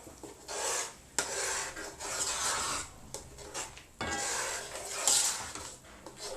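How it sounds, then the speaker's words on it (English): A spoon scrapes and rasps against a pot while a fish stew mixture of onion, garlic and ginger is stirred, in bursts of rough rubbing separated by short pauses, close and fairly loud. "Give it a good stir."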